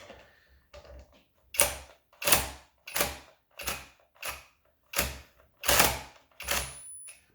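A Horm electric ratchet, a Makita replica, strains against a bolt in a series of about ten separate whirring, clicking bursts, each rising then cutting off, with quiet gaps between them.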